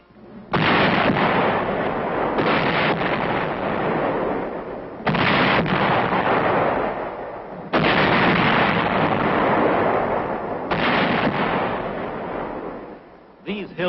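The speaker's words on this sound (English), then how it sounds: "24th Division Artillery prepares to open fire on Hill 584" Artillery pieces of an army division firing on an enemy-held hill during the Korean War, four heavy blasts with long rolling rumbles that fill the gaps, loud and close.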